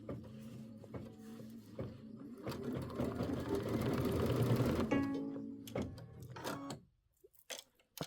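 An embroidery sewing machine runs quilting loops on pieced fabric with rapid rhythmic stitching that builds to a steady whir, then slows and stops, leaving a few clicks and taps.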